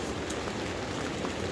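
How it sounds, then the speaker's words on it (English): Heavy rain pours on a winter hot tent during a storm in Glencoe, a dense, even patter drumming on the fabric, steady and fairly faint, with no voices. "I hope you can hear me because it's pouring me rain"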